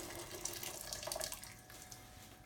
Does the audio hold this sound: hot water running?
yes